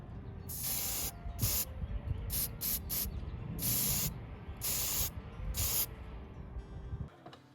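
Aerosol coating sprayed onto an engine intake manifold surface for an IH Scout, a series of close hissing bursts of varying length with short pauses between them.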